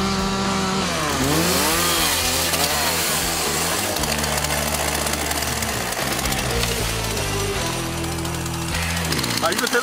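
A loud power saw whines and bogs down as it cuts through bamboo in a bamboo forest, its pitch rising and falling throughout, with engine noise filling the whole stretch.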